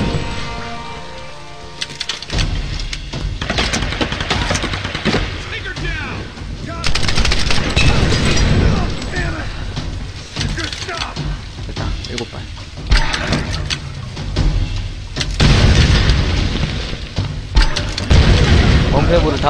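Grenade launcher blasts and explosions in Tomb Raider, heavy booming bursts recurring every few seconds amid gunfire-like clatter and rumbling, with someone talking throughout.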